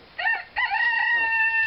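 A rooster crows in short bursts, a clipped call followed by a longer drawn-out cock-a-doodle-doo, fairly close and loud, while it is being chased outdoors.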